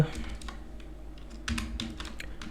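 Quick bursts of computer keyboard typing while entering a Python print command, close and crisp, in short irregular clusters of keystrokes with a faint voice in the background.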